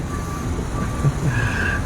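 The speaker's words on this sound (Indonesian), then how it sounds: "Wah, udah ada alarm nih." A truck's reversing alarm beeps steadily and faintly in the distance, heard indoors under a constant low room rumble.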